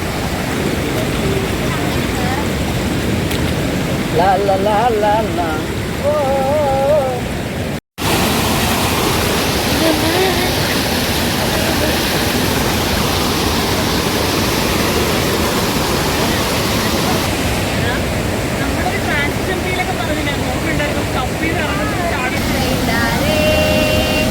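A fast-flowing river in Munnar rushes as a loud, steady wash of water noise that fills the whole stretch, briefly cut once, with faint voices now and then underneath.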